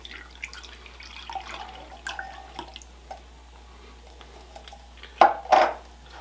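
Evaporated milk from a 12-ounce can pours into a bowl already holding a quarter cup of regular milk: faint drips at first, then two louder, close liquid glugs near the end, with no talking.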